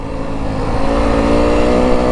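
A 2025 Yamaha WR 250F dirt bike engine pulls hard under acceleration during a test ride, a loud close buzzing drone whose pitch climbs steadily with rising revs, with no talking.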